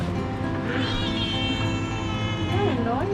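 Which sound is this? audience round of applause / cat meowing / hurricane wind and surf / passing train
cat meowing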